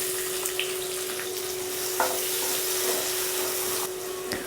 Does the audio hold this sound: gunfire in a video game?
no